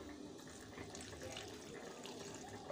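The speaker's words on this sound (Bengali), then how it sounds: "দিয়ে পরিমাণ মতো একটু জল দিয়ে দিচ্ছি আমি।" Water poured into a ground spice mixture of chilli and Kashmiri chilli powder for a mushroom curry, a quiet steady splashing trickle close by with no talking.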